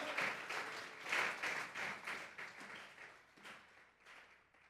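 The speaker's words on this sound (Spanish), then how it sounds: "Vamos a regalarle ofrenda de palmas al Dios de la gloria." Church congregation giving applause as an offering of praise during a Thursday Bible doctrine service: a faint, brief burst of clapping that swells, then trails off into scattered claps, heard at a distance.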